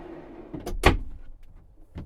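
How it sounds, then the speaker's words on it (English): Fully extendable pull-out drawers in the kitchen of a 2023 RAM ProMaster van conversion slide, giving one sharp close thud or clack near the middle and a few softer knocks around it, with no talking. "Next to that are 3 pull-out fully extendable drawers."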